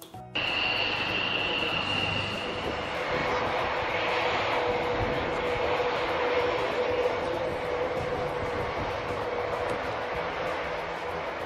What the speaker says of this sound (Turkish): Kargo uçağının sesi şöyledir.